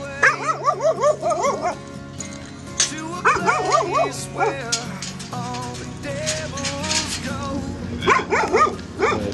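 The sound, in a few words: dog barking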